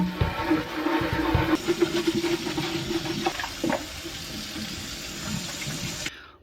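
Water runs steadily from a tap as Jeep Comanche tail light lenses are scrubbed in a sink, a close, continuous splashing rush that stops abruptly just before the end.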